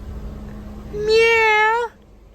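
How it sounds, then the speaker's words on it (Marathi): A single clear cat meow, close and drawn out for nearly a second, over quiet background hiss, in Mahabaleshwar. "ही मांजर बघू शकता."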